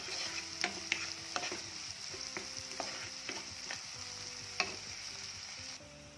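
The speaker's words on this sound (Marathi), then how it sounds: "कांदा लवकर भाजला पाहिजे, मग त्यामध्ये थोडंसं मीठ टाका।" Onion with salt fries in a pan with a continuous soft sizzle, broken by occasional stirring scrapes and light clinks, quiet and close.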